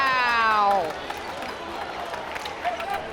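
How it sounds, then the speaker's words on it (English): A basketball arena crowd lets out a collective groan after a missed free throw, a broad falling murmur that fades into general crowd noise, with a commentator talking over it. "You heard the collective sigh from the crowd"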